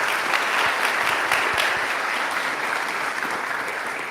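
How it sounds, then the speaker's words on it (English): A conference audience at Future Frontend 2025 claps after a talk, dense, steady applause throughout, slowly thinning toward the end, with no voices over it. "Round of applause."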